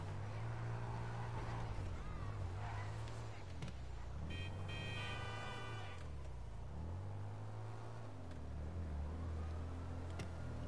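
A car in GTA 5 rumbles with a low engine and exhaust note that rises and falls in repeated revving swells, moderately close, with a short siren-like tone in the middle.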